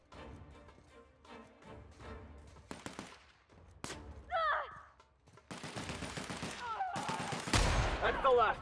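Light assault rifle fire in a video game, several dense bursts of shots crackling up close in the second half, with earlier sporadic shots and some voice-like sounds beforehand.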